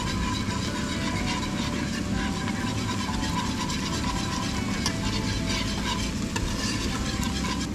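Spices, including garlic powder, mixed herbs and nutmeg, are stirred steadily into a mixture for a beef and mushroom bake, making a continuous close scraping and gritty rustle with a faint sizzle-like hiss and no speech.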